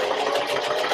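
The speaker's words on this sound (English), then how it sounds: "So we are going to sew, back stitch," Sewing machine stitching close up at a steady fast rhythm while back stitching a fabric box pouch, a continuous buzzing whir with no voices.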